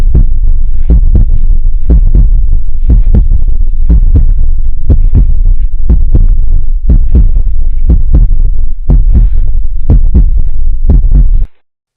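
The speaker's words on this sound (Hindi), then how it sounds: "सबके दिल जोर जोर से धड़कने लगे।" A heartbeat sound effect thumps in a steady lub-dub rhythm for about eleven seconds, very loud and close with deep booming pulses, set in a narrated Hindi-Urdu folk tale about a witch, with no talk over it.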